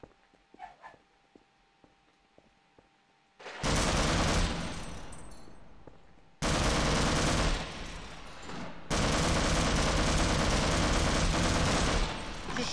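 Gunfire in the Half-Life video game: after a few quiet clicks and thumps, three long, loud bursts of sustained automatic fire roar in close succession, each cutting off sharply.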